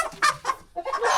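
A rooster on a farm gives a quick run of close, loud clucks in rapid succession, heard alone during morning chores.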